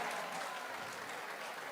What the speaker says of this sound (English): Can we get one more round of applause for all of our contestants tonight?